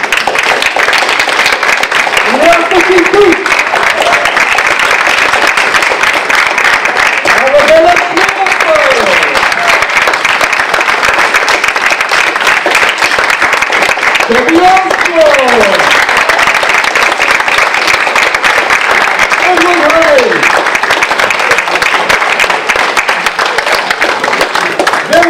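An audience at a young magicians' club stage show claps and applauds steadily and loudly throughout, with a voice speaking over the crowd noise at intervals.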